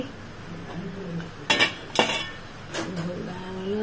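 A lid goes onto a pot of country chicken and potato curry: a few sharp metallic clanks and scrapes of metal on metal, close and distinct, over a faint background hum.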